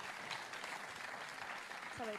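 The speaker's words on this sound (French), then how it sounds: "vous pouvez les applaudir" Quiet, distant audience applause rolls steadily through a hall at a sports awards ceremony, with a faint voice murmuring underneath near the end.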